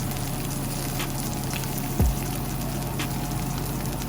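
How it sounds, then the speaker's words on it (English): Steady, loud sizzling and crackling as a ribeye steak cooks in a hot cast iron skillet, with a brief low thump about halfway through. "Y'all hear that sizzle?"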